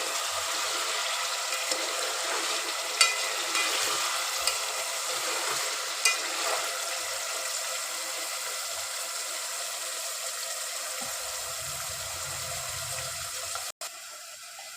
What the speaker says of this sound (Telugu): మీడియం ఫ్లేమ్లో పెట్టి మంచిగా పన్నీర్ అయితే గోల్డెన్ కలర్ వచ్చే వరకు వేయించుకోవాలి